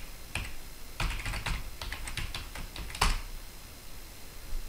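Typing on a computer keyboard to log in: a quiet, close run of light, uneven key clicks in short bursts, with a soft background hiss and no talking.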